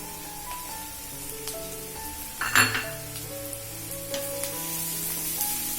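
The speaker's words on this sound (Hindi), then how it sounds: "इसमें आप शिमला मिर्च डाल दीजिए।" Capsicum and transparent onions fry over high flame in a pan for murmura poha, with a low constant sizzle, a sharp clatter near the middle and occasional light utensil scrapes, and no voices.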